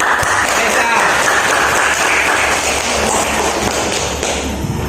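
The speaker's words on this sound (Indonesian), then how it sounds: "Kasih aplaus buat Nesa." A classroom of students applauding a classmate during a lesson, a dense burst of clapping close by that stays loud and steady throughout.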